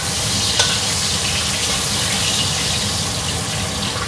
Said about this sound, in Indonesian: Aku masak ikan gurami.